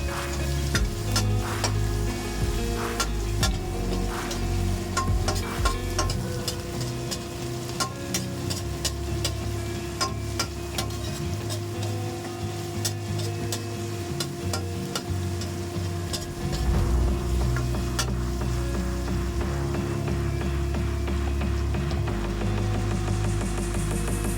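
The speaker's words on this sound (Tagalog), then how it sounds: "gisahin na natin yung ating karne" Pork meat sautéing with onions in a pan for string bean adobo: a steady close sizzle runs throughout with frequent clicks and scrapes of stirring, and no talking.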